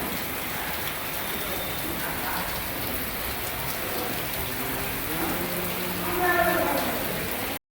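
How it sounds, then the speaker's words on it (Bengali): Heavy rain from low-pressure weather falls steadily on an outdoor wedding pandal site in Murshidabad, a dense, even hiss throughout that swells slightly near the end, with a voice speaking faintly underneath. "তো এতটাই বৃষ্টি হচ্ছে, দেখো বৃষ্টির জন্য কাজ বন্ধ হয়ে আছে।"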